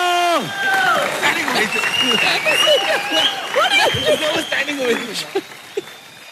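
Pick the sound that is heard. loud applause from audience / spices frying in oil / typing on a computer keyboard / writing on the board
loud applause from audience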